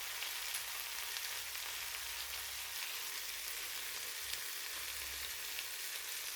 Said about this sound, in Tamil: இப்போ வெங்காயத்தையும் முள்ளங்கியோட சேர்த்து வதக்க போகிறேன்.